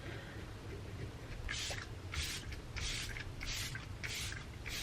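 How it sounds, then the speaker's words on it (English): Lumene Defend and Replenish Antioxidant Mist is sprayed onto a face in five quick, evenly spaced hissing spritzes, close and fairly soft against a quiet room. "I'm going to spritz my face with the Lumene Defend and Replenish Antioxidant Mist."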